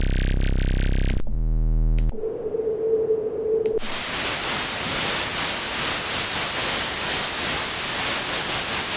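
A noise generator in the Arguments audio plugin sounds alone: a buzzing tone, then a stepped pulse and a steady hum, and from about four seconds on a loud, continuous broadband hiss.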